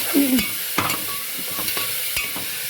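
Ingredients for squid curry sautéing in a pan: close, steady sizzling broken by a few distinct scraping strokes of a stirring spoon.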